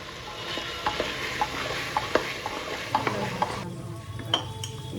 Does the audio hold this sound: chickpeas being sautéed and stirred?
yes